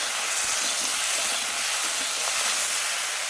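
Oil heating in a wok (kadai) gives a steady, even hiss with a faint sizzle, continuous and close, with no voices over it.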